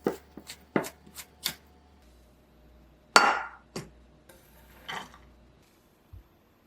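Garlic is crushed and minced on a cutting board, heard as a few sharp knife taps and chops near the start, then scattered clinks and thumps with quiet gaps, close and with no talking.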